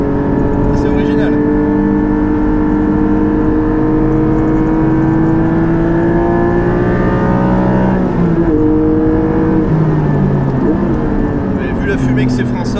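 Porsche 718 GT4 fitted with an Akrapovic exhaust circling the Spa-Francorchamps circuit, its engine droning steadily with sweeping pitch rises and falls as it accelerates and shifts, loud and continuous throughout.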